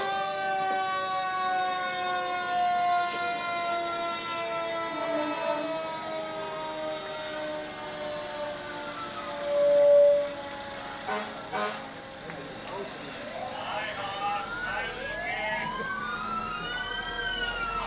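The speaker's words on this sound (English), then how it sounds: "Ralston Engine 131 coming along next." Fire engine siren wailing as Ralston Engine 131 rolls along a Fourth of July parade route, a steady rising and falling siren with overlapping tones and brief horn-like bursts, heard from the roadside.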